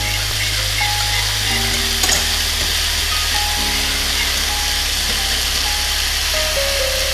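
Flour sauce being stirred in a pan on the stove, a steady sizzle and gentle scraping running continuously under a low hum, with no talking.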